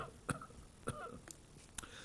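Several short, sharp coughs sound in a library board meeting room, spaced irregularly about half a second apart, fairly close and clear over a low room hum, with no speech.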